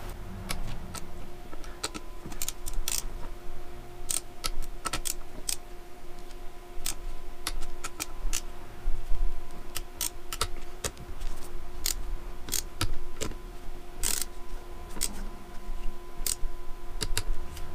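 A torque wrench clicks as engine bolts are tightened in a cross pattern on a Malossi RC-One 94cc engine build. Many sharp, irregular ticks and clicks spread across quiet garage background over about eighteen seconds.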